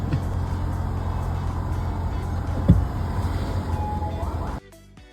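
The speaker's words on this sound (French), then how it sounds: "Les bouchons au Maroc, des voitures et des charrettes." Moroccan traffic jam of cars and carts: a steady rumble of idling and creeping vehicles close by, with one brief knock midway before the noise drops away abruptly near the end.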